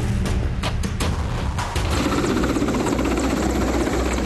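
A BSF rescue helicopter flying over flooded villages, its engine and rotors making a loud, continuous roar with sharp blade-thump pulses early on that give way to a steady, heavy drone.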